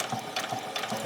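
A sewing machine runs slow, even stitches along a fabric ruffle on the 1/4 inch side, a steady mechanical whirr with a regular pulsing rhythm, close and alone.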